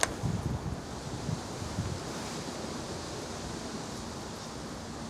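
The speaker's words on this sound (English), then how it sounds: "Obviously this is a windy day" Constant wind rushing and blustering across the microphone, a broad steady roar with a few low thumps near the start.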